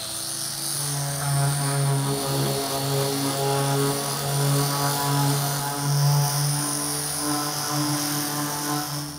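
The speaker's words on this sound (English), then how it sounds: "we're working with a mouse sander with a triangular head" A triangular-head mouse sander works a wooden board, giving a steady buzzing drone with a strong tonal hum. It is close, moderately loud and continuous throughout, with no talk.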